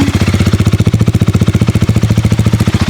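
A KTM Duke 390 motorcycle engine idling, a loud, close, steady rapid thumping pulse with no voices over it.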